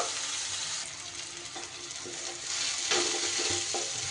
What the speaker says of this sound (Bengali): এবার পেঁয়াজ আর টমেটো খুব ভালো করে আমি ভাজা ভাজা করে নেব